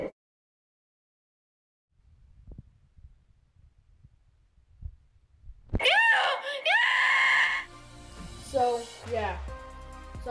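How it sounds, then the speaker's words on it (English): Near silence with faint low rumbles, then a child's loud high-pitched scream erupts, followed by further shrill yelling and vocal outbursts. "Sorry for screaming and stuff."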